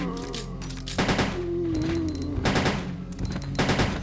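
Pistol fire in Resident Evil 2 comes as several sharp shots in quick bursts, loud and close, mixed with in-game sounds and background music, with no talking.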